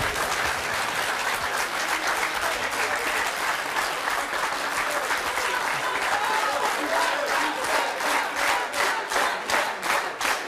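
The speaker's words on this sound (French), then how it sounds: "on peut l'applaudir" A French television studio audience on the talk show C'est mon choix applauds two centenarian guests with sustained, energetic clapping that grows into a rhythmic, fairly distant wave of hands.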